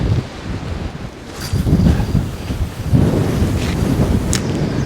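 A strong headwind during Storm Darragh on the Dorset coast buffets the microphone with loud, gusting roars and rumbles that swell and ease over several seconds.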